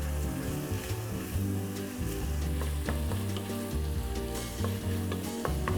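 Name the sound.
onion frying with porcini mushrooms in a pot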